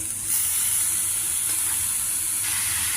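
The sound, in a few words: cluster beans and coconut frying and being mixed in pan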